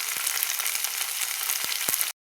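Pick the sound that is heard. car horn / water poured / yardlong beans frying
yardlong beans frying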